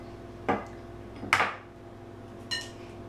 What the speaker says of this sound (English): I like to crack mine in an extra bowl